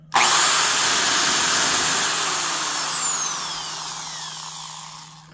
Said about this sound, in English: Pretty fast spinning motor.